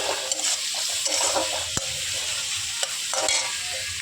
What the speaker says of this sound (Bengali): তো পেঁয়াজ কুচিগুলো একটু ভাজা ভাজা হতে থাক।